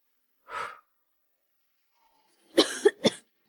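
A single short cough, then after a pause a burst of two or three harsh coughs close by, with silence in between.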